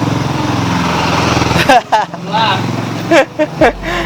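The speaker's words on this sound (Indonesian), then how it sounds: "Ada motor lewat." A motorcycle engine drones loudly nearby and passes during the first part, fading out, followed by someone speaking.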